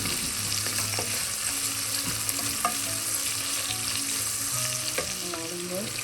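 Chopped onion and mixed vegetables fry and get stirred in a hot pan for vegetable pulao, a steady close sizzle with scattered scraping strokes of the spoon throughout, with no talking.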